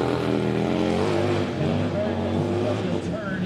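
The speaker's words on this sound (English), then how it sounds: "this motor is very deep in sound and very unique" Big Harley-Davidson motorcycle engine idling and running at a hill climb event, a deep steady low rumble sustained throughout, with crowd or commentary voices talking over it.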